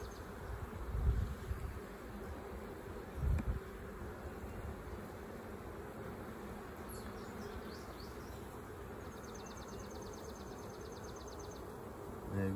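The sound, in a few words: honeybees buzzing loudly in a hive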